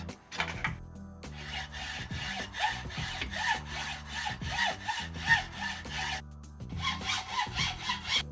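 A hand saw cuts through the steerer tube of a 3T Strada road bike in quick, even back-and-forth strokes, close and steady, with a brief pause before the rasping resumes.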